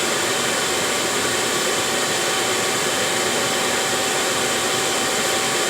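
A Chinese diesel heater, showing fault code 8/10, fires up and runs with a steady, loud roaring whoosh, a constant broadband blast from the combustion fan that holds even throughout without pauses or talk.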